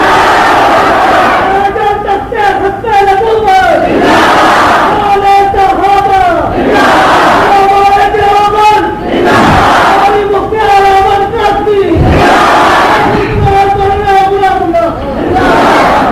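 A large crowd at a religious preacher's gathering roars slogans back in unison, loud and close. Chants rise and fall in repeated swells separated by brief lulls.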